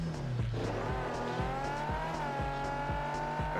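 A Nissan 350Z sports car engine revs close by, its tone climbing and settling in a strong, continuous drone with a rhythmic pulsing underneath and no talk.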